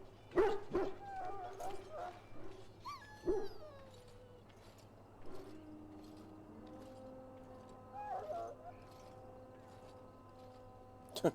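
A dog penned up in the Dragon Age: Origins video game gives several short barks and yips, then lower whimpers, while steady background music plays underneath throughout.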